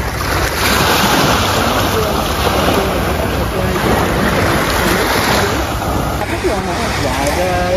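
Sea waves wash steadily onto a shallow beach at Phu Quoc at sunrise, a continuous broadband surf wash with light wind noise, while people's voices murmur faintly in the background.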